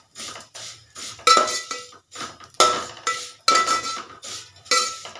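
Vermicelli is stirred and roasted in hot ghee in a pan over a low flame, the spoon scraping and clinking against the metal in a quick, regular rhythm, close and clear with no talk.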